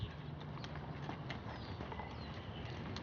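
Hooves of a young, rambunctious thoroughbred horse clip-clop in a steady rhythm during English riding training, the footfalls fairly close and moderately loud over a faint background.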